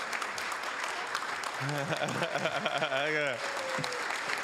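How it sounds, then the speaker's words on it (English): Applause fills a city council meeting room, a steady broad clatter of clapping with a voice speaking over it partway through. "let's give Mr. Pastante another big round of applause."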